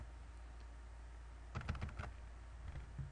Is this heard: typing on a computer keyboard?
yes